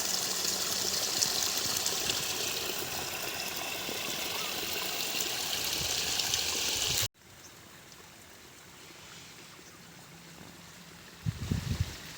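Water rushes steadily from a pipe, a loud continuous gushing that cuts off abruptly, leaving a quieter trickling flow with a brief thump near the end.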